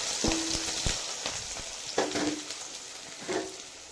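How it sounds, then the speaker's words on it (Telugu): Onions sizzle in hot mustard oil for a chicken curry, the steady frying hiss punctuated by several sharp spatula scrapes and taps against the pan. "ఆనియన్స్ వేసుకుందాం"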